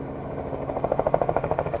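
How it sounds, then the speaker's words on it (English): A steady low mechanical hum with a rapid pulsing beat, helicopter rotors chopping the air nearby during wild elephant collaring. "it's just not exactly enjoying the hum of the helicopter"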